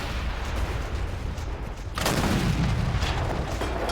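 Artillery airburst rounds in a World War I trench video game: a steady background rumble of distant gunfire, then a sharper, louder burst about halfway through, followed by sustained booming.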